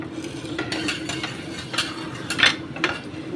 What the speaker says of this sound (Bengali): হিং দিয়ে আর জিরে দিয়ে একটু নেড়ে দেবো।